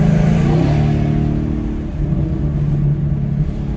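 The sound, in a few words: 2022 Ford Mustang GT X-pipe exhaust rumble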